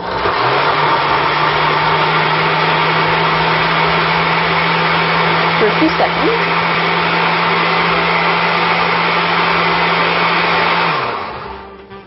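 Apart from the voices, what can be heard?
blender pulping paper and water mixture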